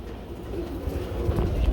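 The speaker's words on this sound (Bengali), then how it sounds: "খুবই সুন্দর একদম ড্যানিশ কবুতর রয়েছে কালো কালার" Black Danish pigeons coo softly among a flock, low murmuring calls over a continuous rumbling background.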